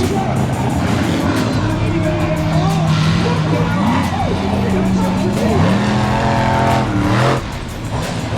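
A monster truck engine roars and revs during a big jump at a monster truck show, with loud rising and falling engine pitch sweeps and a commentator talking over it.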